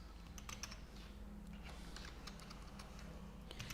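Soft, steady clicking of a computer keyboard as C code is typed, irregular keystrokes over a low background hum with no speech.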